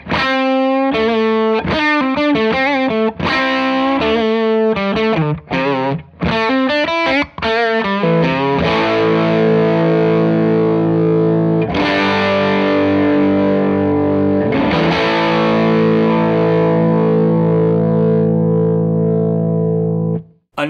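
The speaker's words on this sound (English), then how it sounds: "Now I've got my Trinity Tweed Deluxe clone that I made a little while back plugged up to the cab." Electric guitar played through a homemade Trinity Tweed Deluxe clone amp into a 2x12 cab, with distorted overdriven tone: choppy staccato chords at first, then sustained ringing chords, loud and close, no talking.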